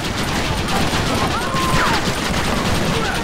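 Dense, continuous gunfire in a Red Dead Redemption shootout in the snow, loud and unbroken across the whole stretch, with shots aimed at the player.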